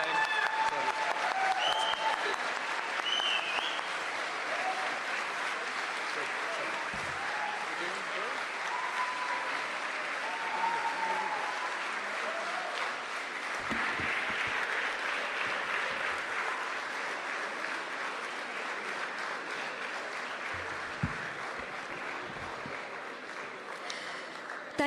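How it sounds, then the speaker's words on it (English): An audience at a school graduation ceremony gives a long, sustained round of applause for the graduating class, a dense steady clatter of many hands with murmuring voices underneath. "give it up with a rousing round of applause for the graduating class of"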